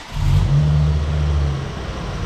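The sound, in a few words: car engine misfiring while revving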